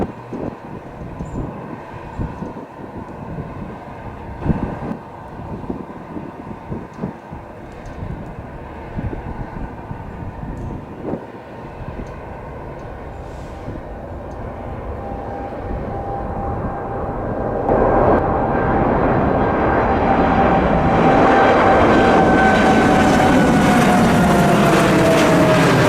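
A Boeing 787 Dreamliner jet takes off from runway 05 in a 10-knot wind. A low rumble with scattered knocks builds to a loud, sustained roar with a rising whine as the engines spool up.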